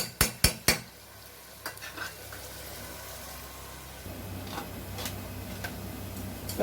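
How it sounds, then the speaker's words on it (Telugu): Onions fry in a pan for chicken masala and are stirred with a utensil. A few sharp metal clanks open the clip, followed by a steady, soft sizzle with occasional light scrapes. "ఉల్లిగడ్డ మంచి ఎర్రగా అయింది"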